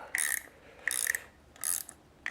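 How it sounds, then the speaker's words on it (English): Spring compressors ratchet down on an Eibach lowering spring for a 10th-generation Honda Accord, giving three separate bursts of close metallic clicking with short quiet gaps between them. "we are going to use our spring compressors to compress this down"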